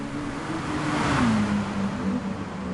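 A GT2 race car in GT Sport revs hard on a wet track at Red Bull Ring, a loud sustained engine drone whose pitch rises and dips as the throttle is pushed, heard without talk.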